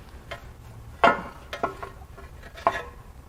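Oil pan coming off a Dodge 6.1L Hemi V8 during a teardown: a few separate metallic clanks and scrapes, one sharp knock near the start followed by lighter taps, close and fairly quiet, no talking.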